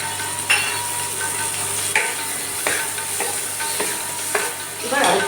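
Chopped tomato goes into vegetables sizzling in a pan for oats khichuri, with steady frying hiss and several distinct scrapes and clinks of a spatula stirring against the pan.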